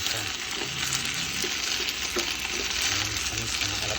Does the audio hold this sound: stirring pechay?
yes